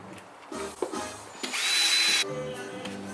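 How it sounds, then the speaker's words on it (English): A cordless drill whirs in short bursts, then runs steadily as a sanding pad grinds against a car headlight, close and fairly loud with no talking. "Install it on your cordless drill."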